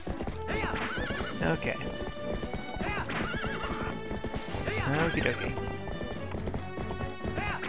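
Horse hooves clip-clop at a gallop in The Legend of Zelda: Twilight Princess, a rhythmic pounding with whinnies mixed in, heard under someone talking over the game.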